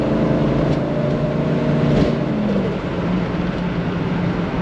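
A 600+ horsepower Mercedes S124 V8 turbo pulls hard through its boost band, a steady loud drone of engine and road noise with rising tones, close and continuous, no talking.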